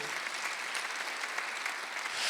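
Church congregation applauding during a Sunday worship sermon, a dense, steady wash of clapping from many hands that holds evenly throughout.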